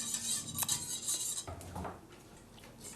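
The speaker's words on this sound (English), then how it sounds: "So we've got all that whisked up there." Metal whisk and utensils clinking and scraping against a mixing bowl of red velvet cake batter with white vinegar, with irregular close taps and stirring sounds, no talking.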